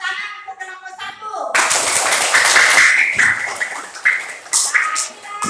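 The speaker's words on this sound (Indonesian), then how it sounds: "Tepuk tangan untuk kelompok 1." Children in a classroom clap for a group after a teacher's voice, a burst of scattered hand claps that starts abruptly and continues unevenly with small peaks until the end.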